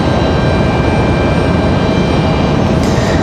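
An American Airlines jet from DFW passes at a Raleigh-Durham spotting spot, its steady broadband engine rumble loud and close with no talk.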